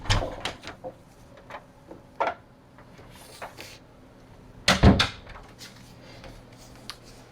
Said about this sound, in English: Shut your door, and now you have an anchored band.